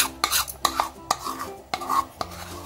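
A utensil scrapes and spreads suji dhokla batter across a pan in short, uneven strokes with light metallic clinks, close and fairly loud, with no voices.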